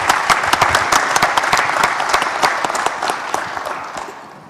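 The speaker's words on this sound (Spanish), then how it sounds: "para quien también pido un aplauso" An audience at a political conference gives Giorgia Meloni loud, sustained applause, with crisp individual claps standing out from a broad crowd of hands before the noise slowly fades.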